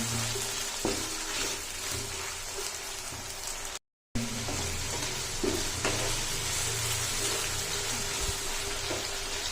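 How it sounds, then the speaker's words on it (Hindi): Onions sizzle and crackle steadily in hot oil, a constant frying hiss with occasional pops and stirring scrapes, interrupted by a brief cut. "इसको पकाएंगे अच्छी तरह से ताकि प्याज नरम हो जाए।"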